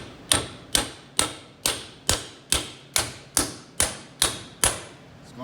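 Small hammer tapping a 1.25 inch socket to drive out a bushing pin on a Peterbilt truck, about a dozen evenly spaced sharp metallic strikes, close and clear.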